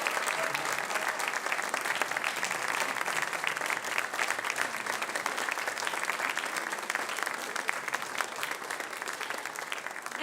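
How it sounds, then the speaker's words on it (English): A church congregation at a Sunday service applauds in a steady, even wash of clapping that holds for about ten seconds, with no voices above it. "So just a big round of applause, and thank you"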